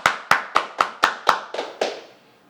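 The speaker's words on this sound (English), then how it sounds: "Everybody clap your hands." People gathered for a tabletop game session clap their hands together in unison: eight sharp, evenly spaced claps, close and crisp, with the last few softer and looser before they die away.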